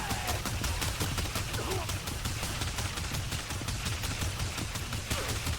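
Rapid-fire gunshots from a sci-fi rifle in the video game Warframe crackle continuously in a fast, even rhythm, dense and close throughout.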